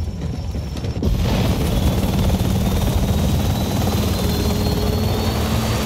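A helicopter in the Modern Warfare II video game comes in abruptly and then roars continuously, with loud, close rotor chop and engine noise filling the scene.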